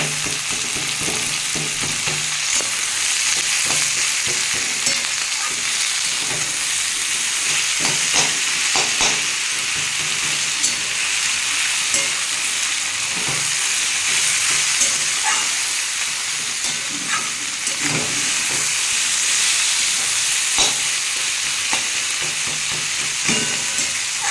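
Vegetables and fried fish heads for a bitter gourd charchhodi are stir-fried in a pan, making a continuous loud sizzle broken by scraping spatula strokes throughout, with no talking.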